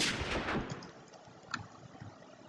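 Sniper rifle in the Minecraft Flans Mod (R700, single-shell loading) firing: a loud shot with a booming tail at the start, then a faint sharp crack about a second and a half later, no talk.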